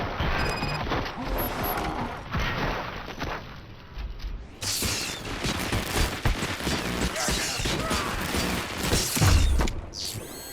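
Gunfire in the game Robocop Rogue City rattles through a busy mix of mechanical clanks and creaks, with dense bursts of shots running throughout at a steady, fairly loud level.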